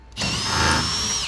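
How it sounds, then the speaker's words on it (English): A power drill pre-drills screw holes through a sill pan during a folding frame installation, one steady high whirring run lasting about a second, close and loud with nothing else heard. "Because we're in a sill pan, we'll pre-drill the holes."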